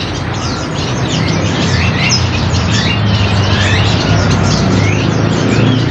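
Chirps and tweets of caged songbirds repeat over a loud, steady background noise, several calls scattered throughout with no talking.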